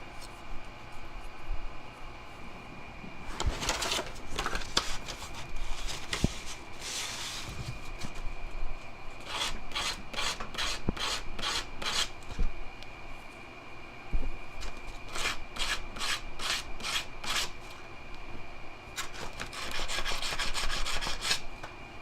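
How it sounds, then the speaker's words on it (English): Metal serving spoon tines being sanded into fork points on sandpaper, a rhythmic rasping scrape in repeated bursts of quick strokes, close and fairly loud, with pauses between passes and no talk. "The points want to go into the sandpaper."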